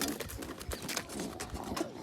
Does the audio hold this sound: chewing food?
no